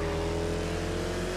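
Ford car in The Crew Motorfest racing game, given a Hawaiian-style makeover, its engine holding a steady, loud drone with faint tire noise and no talking.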